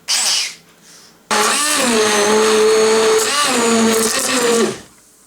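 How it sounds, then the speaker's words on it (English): A blender whirs loudly after a brief start, its motor pitch dipping as it churns thick soup, then cuts off. "you can blend it with one of these. Sounds just like being at the dentist"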